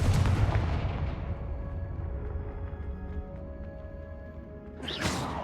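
A Confringo fire spell blast in Hogwarts Legacy: a loud, booming impact that rumbles and decays over several seconds, followed by a sharp whooshing burst at the end.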